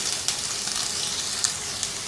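A medium onion fries in a tablespoon of oil for a cauliflower and beef curry, giving a soft, steady sizzle with faint crackles, close by and without talk.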